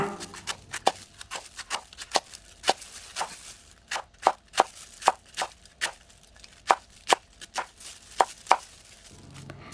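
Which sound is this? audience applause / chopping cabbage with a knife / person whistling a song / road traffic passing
chopping cabbage with a knife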